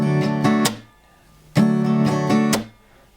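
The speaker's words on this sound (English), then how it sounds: "we're going to have this sort of slap sound in the middle there" Acoustic guitar strummed with a pick, with a percussive palm slap on the strings, played in two bars of down-up-slap strums, close and loud with bright ringing chords and a short pause between the bars.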